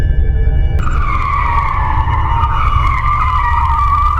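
Cartoon cars tear in with a loud, sustained tire-skidding screech that starts abruptly and runs almost continuously over a heavy engine rumble, with no talking.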